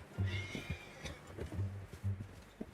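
Red Dead Redemption 2 game horse giving low snorts and breathy grunts in short bursts, with a faint whinny-like tone early on, quiet and near.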